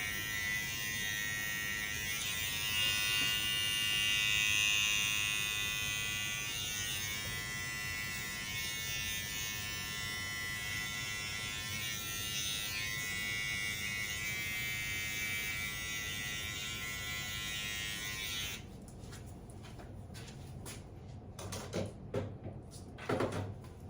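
Electric hair clippers hum steadily and loudly through a men's haircut, a constant close buzz that lasts most of the time before cutting off near the end, leaving a few soft handling knocks.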